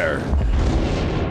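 Warship main guns fire in the naval combat game World of Warships, one deep, heavy boom that rolls out into a long low rumble, loud and close, with a faint voice at the start.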